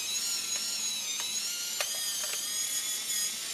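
A Fujifilm Zoom Date 120 film camera's motor rewinds the film with a steady, close mechanical whir and a few faint ratcheting clicks, running alone without any talk.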